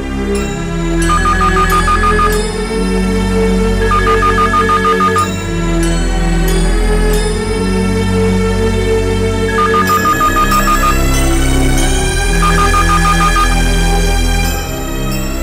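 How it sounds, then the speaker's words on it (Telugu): A phone rings on an outgoing international ISD call, a loud electronic ringtone repeating in bright trilled bursts throughout. "రింగ్ వెళ్తోంది."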